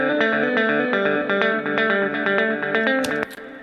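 An electric guitar plays a quick melodic lick through a Fractal Axe-Fx-style reverb, with bright sustained notes blurring into a lush wash before a final high accent and a sudden cutoff, loud and alone.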